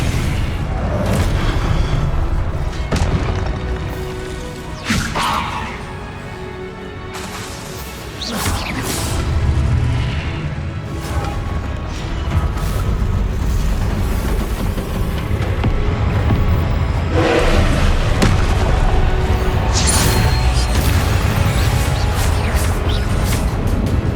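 Repeated Confringo blasting spells explode during Hogwarts Legacy combat, loud booms and crashes piling up over a dense, continuous rumble of game sound for the whole stretch.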